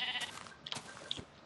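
A Minecraft sheep gives a couple of short, thin bleats near and fairly quiet, heard alone.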